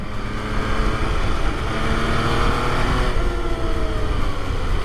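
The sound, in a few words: MV Agusta motorcycle being ridden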